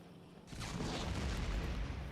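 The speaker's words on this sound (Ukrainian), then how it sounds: "ось ця точніше доставочна гармата, вона вже почала стріляти" After a brief quiet moment, a delivery cannon in Factorio Space Exploration fires a deep booming blast that rumbles on, a loud low discharge with a rolling, sustained roar.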